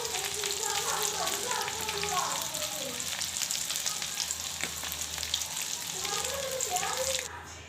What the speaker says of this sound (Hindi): अब कबाबों को फ्राई कर लेंगे।